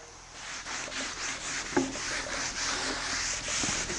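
Something rubs and burnishes the corners of a faux-aged painted wooden beam, making a soft, repeated scraping and rubbing sound with one sharper knock partway through.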